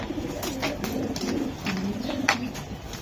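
Red checker racing pigeons coo nearby, with soft, repeated low throaty calls in an uneven rhythm over light background noise and scattered sharper clicks and rustles.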